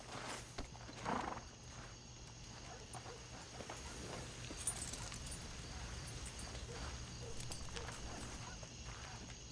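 A horse in Red Dead Redemption 2 being led at night to a town hitch post, with steady hoof clops and a brief snort or whinny over a low ambient hum and faint background noises.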